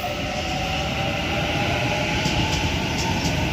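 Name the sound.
Sydney B set train at Central station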